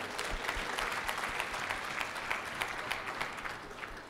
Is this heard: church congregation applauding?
yes